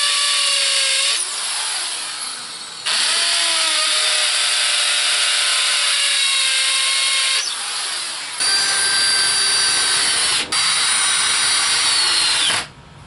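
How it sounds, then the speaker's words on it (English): A power drill bores holes into concrete during a kitchen corner pantry build, in several loud sustained bursts with brief pauses and pitch shifts between them, close and alone. "now you drill holes and run them into the concrete"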